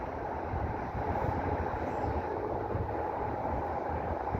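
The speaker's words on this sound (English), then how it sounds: "The train is finally approaching the platform" A train approaches the platform on a rail trip to Albury, making a continuous low rumble and roar with steady wind-like noise. No voices are heard over it.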